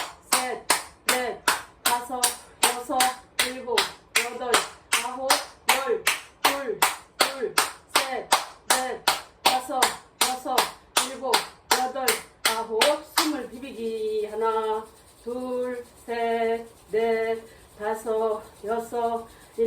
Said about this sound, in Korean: 바로 박수 하나 둘